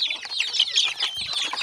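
Chicks or young chickens clucking and peeping steadily while being fed a homemade health mix with turmeric, a busy chorus of small calls with no talk.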